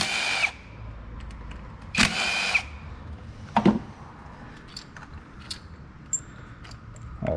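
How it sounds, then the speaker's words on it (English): A power tool with a 10 mm socket removes the coil pack bolts on a Chevy Equinox in short whirring bursts, close and moderately loud, followed by faint clicks and taps, with no speech. "Go ahead and switch over to our 10 millimeter socket. Come in here and remove the bolts for the coil packs."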